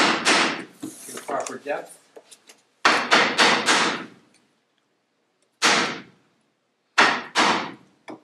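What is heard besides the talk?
chopping into wood with a chisel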